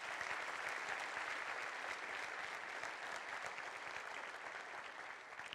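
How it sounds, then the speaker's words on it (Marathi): An audience claps for a volunteer team in steady, sustained applause from many hands. The clapping sounds fairly faint and distant and eases slightly toward the end, with no talking. "ह्या सगळ्यांसाठी एकदा टाळ्या वाजवा."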